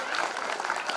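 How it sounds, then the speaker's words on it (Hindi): Crowd applause at a Shri Ram Katha religious gathering in Bayana, a dense, steady wash of many hands clapping for a brief moment at moderate loudness. "जोरदार तालियों के साथ धन्यवाद करेंगे।"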